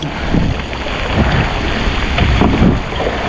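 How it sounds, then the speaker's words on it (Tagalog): Heavy rain pours down at sea in a loud, dense, continuous roar, with gusty rumbling underneath and no voices. "Ang lakas ng ulan guys."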